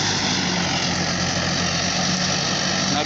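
Tractor engine working a field being prepared for rice transplanting, a loud, steady, continuous drone close by with no break.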